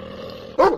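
A single dog bark, loud and close, bursting out near the end of a short stretch of low background murmur.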